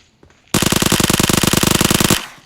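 Rapid automatic gunfire in the PUBG battle royale game, a loud sustained burst of closely spaced shots lasting under two seconds and then cutting off abruptly.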